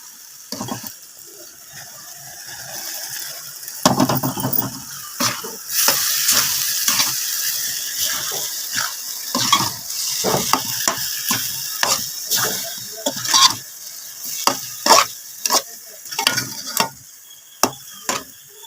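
Rice being mixed into hot jaggery syrup in a pan, with a soft sizzle throughout and a long run of distinct scraping and stirring knocks that grow sharper and sparser toward the end.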